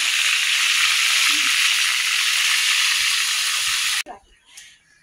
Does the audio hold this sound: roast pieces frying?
yes